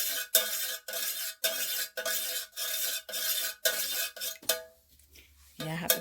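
A utensil stirs a mixture of fragrance and essential oil in a container, making rhythmic scraping, rasping strokes about once per half second. The strokes stop near the end, where a voice begins.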